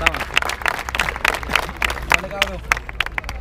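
At a freestyle rap battle event, a crowd claps for a rapper in sharp, uneven bursts, with shouting and chatter from the audience mixed in.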